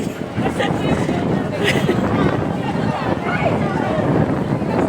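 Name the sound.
wind by the seaside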